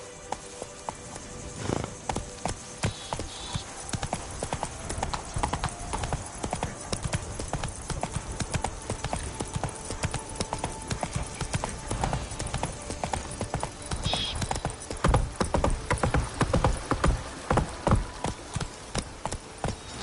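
Horse hooves clip-clop in a steady, fast galloping rhythm in The Witcher video game, loud and continuous across the whole stretch, with a brief neigh and light in-game ambience beneath.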